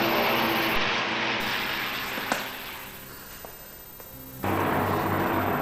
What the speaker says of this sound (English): Search plane!